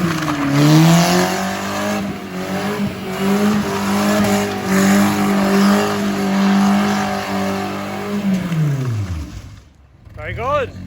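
Car doing donuts in a yard with a hydraulic hand brake: a loud, continuous engine drone with wavering revs and tire scrub that holds steady, then drops away near the end as the engine note winds down.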